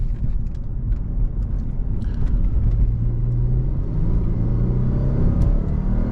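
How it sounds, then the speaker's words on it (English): A 2007 Lexus GS 350 engine with 275,000 miles runs steadily with a low rumble and a faint rising whir, continuous throughout with no one speaking. "Engine still works."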